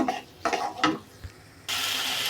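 Amaranth greens are stir-fried in a pan: a few scraping, rustling stirs, then a sudden steady sizzle that holds to the end.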